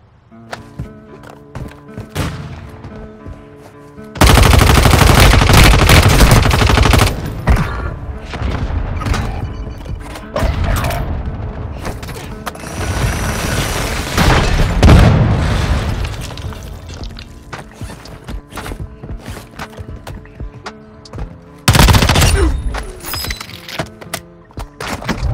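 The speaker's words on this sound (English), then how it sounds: "Friendly mortar strike inbound." Friendly mortar strike in Warzone Mobile on Verdansk: loud, dense barrages of booming explosions and gunfire roll on for many seconds, ease off in the middle, then surge again near the end.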